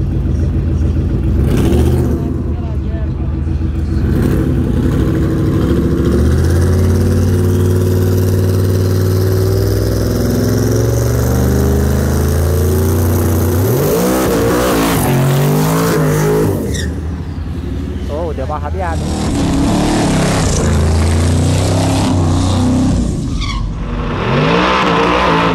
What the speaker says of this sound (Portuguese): esse é um Mustang preparado pra arrancada